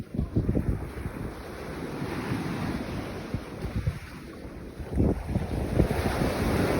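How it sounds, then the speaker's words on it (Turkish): Steady wind blowing from the sea toward land roars across the microphone at the shore, with a low rumbling surge of water underneath, swelling louder toward the end. "rüzgarımız esiyor"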